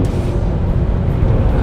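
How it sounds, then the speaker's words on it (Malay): A BMW E92 M3 with its V8 engine, a loud, steady low-pitched rumble close by, sustained without breaks for the short stretch. "Dengar, memang V8 ni itulah kelebihan dia,"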